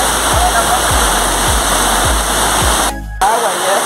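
A rural waterfall in the countryside of Jujutla, El Salvador roars steadily and loudly up close, a dense continuous rush of falling water that briefly drops out near the end.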